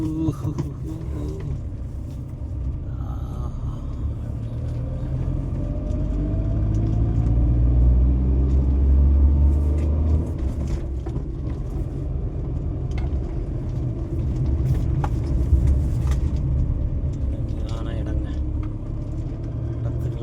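A vehicle descending a steep dip on a hill road near Sirukumalai gives a low, continuous engine rumble that swells and eases as it rolls down, with someone talking over it.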